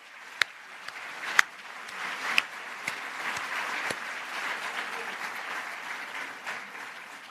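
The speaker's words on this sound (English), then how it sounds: "Applause for you." Applause at a university graduation ceremony begins with a few scattered claps and swells into a steady, moderately distant round from the hall.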